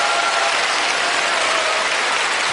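An audience at a talk breaks into sustained applause, a dense, even wash of many hands clapping at once that holds steady with no speech over it.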